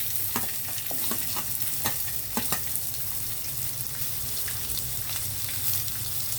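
Onion and carrot fry in a pan with ginger for millet khichdi, giving a continuous close sizzle broken by occasional stirring scrapes and clinks, with no talking.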